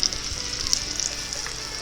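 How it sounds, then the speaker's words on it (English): A bone-in ribeye steak sears in unsalted butter in a skillet, sending up a close, lively sizzle with small crackling pops throughout. "What we're doing is searing it pretty much."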